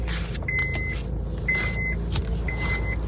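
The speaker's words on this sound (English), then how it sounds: "hold on, let me back this car in." A car backs up with a low engine rumble, while a reversing beep sounds at a steady pace three times.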